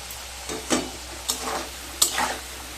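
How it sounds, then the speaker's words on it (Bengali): Potatoes seasoned with turmeric and a little salt frying in oil until lightly browned, giving a soft steady sizzle broken by a few brief stirring scrapes and louder bursts, close and alone. "আলুগুলোকে হালকা ব্রাউন কালার করে ভেজে নিয়ে তারপর ফিরে আসছি"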